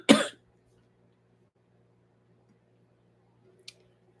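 A single short, harsh cough right at the start, followed by near silence with a faint click toward the end.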